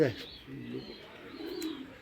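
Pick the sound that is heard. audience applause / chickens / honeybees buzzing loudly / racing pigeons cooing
racing pigeons cooing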